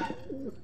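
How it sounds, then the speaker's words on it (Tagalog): A pigeon gives a short, soft coo, a single low rolling call heard close and alone. "Si Lady Sam, ayun o, may itlog na pala siya mga kalapatids"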